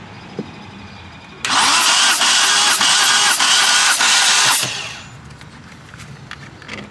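A car engine cranks over during a compression test, the starter churning loudly and rhythmically for about three seconds before spinning down, with quiet background before and after.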